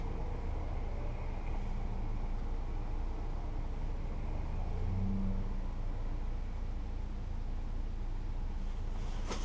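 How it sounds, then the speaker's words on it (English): A 2017 Ford Raptor in Baja mode and two-wheel drive pulls away from a stoplight, its engine a steady, loud low rumble heard from inside the cab, building gradually without any talk. "I'm going to put it in Baja mode for you and take off here from the light"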